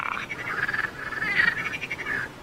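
Frogs croak in a steady, dense chorus, many overlapping rasping calls pulsing close and continuous with no talk.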